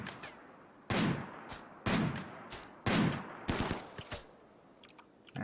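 Gunfire in the colony-building video game Rimworld: several sharp, moderately loud shots arrive at about one-second intervals, followed by a few quicker, fainter cracks.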